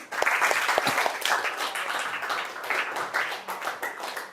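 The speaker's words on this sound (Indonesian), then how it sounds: "Lagi berikan aplaus buat kelompok 5" A classroom of students applauds for group 5, dense steady clapping from many hands close by, lasting throughout with a few murmuring voices mixed in.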